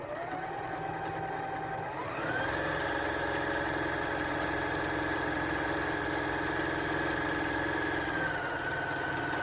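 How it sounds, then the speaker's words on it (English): A sewing machine runs steadily, stitching a lining onto a quilted Christmas stocking. The motor whirs close by, and its speed steps up partway through before easing back slightly near the end. "we're going to stitch this lining on there"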